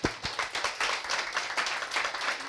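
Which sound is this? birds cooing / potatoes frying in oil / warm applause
warm applause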